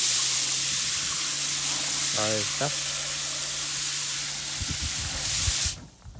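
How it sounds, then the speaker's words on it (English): A small auto-sensing water pump runs in an allotment plumbing setup with a steady hum and a hissing rush of spraying water. A brief tonal chirp and a few knocks cut in before the sound drops away at the end. "So this pump is auto sensing, so it just comes on and off basically automatically if it's connected."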